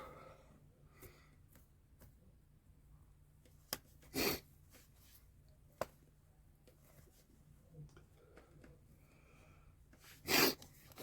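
A few short, sharp sniffs from someone with a cold break a quiet room, spaced irregularly with two louder ones standing out.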